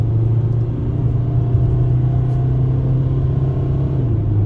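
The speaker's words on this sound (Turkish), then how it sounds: "Bu rampada bir dip gaz yapıp ani hızlanmasına bakacağım." An Opel Combo Cargo 1.5 diesel van with 130 HP, under full throttle on a ramp, gives a steady, loud engine drone and road rumble from inside the cabin, with no talking.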